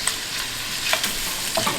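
Bacon frying in a pan for a Southern shrimp and grits tailgate breakfast, a steady close crackling sizzle with a few sharper pops and stirring scrapes.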